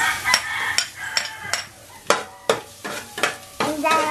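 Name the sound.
garlic sizzling as it is added to the pan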